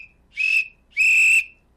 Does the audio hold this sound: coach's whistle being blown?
yes